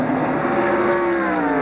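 Ken Schrader's Kodiak Chevrolet race car picking up speed at Watkins Glen in 1993, a loud, close engine whine climbing steadily in pitch over a short stretch.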